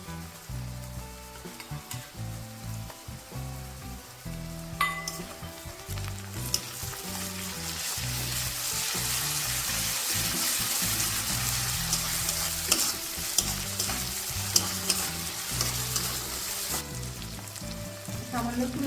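Ginger and garlic paste frying in hot oil, with a spoon stirring and scraping the pan, a loud, dense sizzle that builds and stays steady under repeated stirring strokes, close up, no speech.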